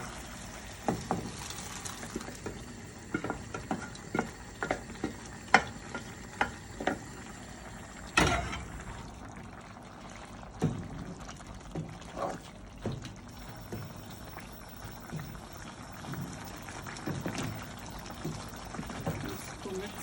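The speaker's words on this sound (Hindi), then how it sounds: "मैं अभी दाल जो है इसमें डाल दूंगी" Cooked lentils are poured into bottle gourd masala and stirred, giving wet pours and a soft sizzle with irregular spoon scrapes and knocks against the pot, while a voice talks over parts of it.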